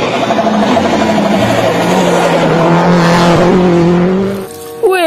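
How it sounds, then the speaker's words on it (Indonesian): A blue toy race car plays an electronic racing sound, a loud, steady engine roar with rising pitch and a tire-squeal effect, running nearly nonstop before a brief drop and a short final burst. "Ini mobil balap, teman-teman."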